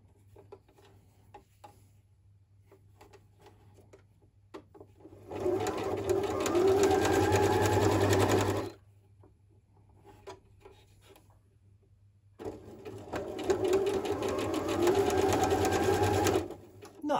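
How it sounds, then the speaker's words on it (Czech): A sewing machine stitching through a small fabric loop with dark thread, two loud sustained runs of rapid needle chatter separated by a quiet pause, close by. "No a teď ještě poutko prošiju i z druhé strany."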